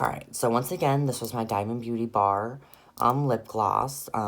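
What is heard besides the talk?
No everyday noises stand out.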